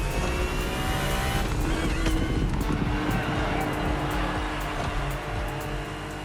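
A BMW race car from The Crew Motorfest video game drives with a steady, loud engine drone and tire noise throughout, continuous and close with no talk.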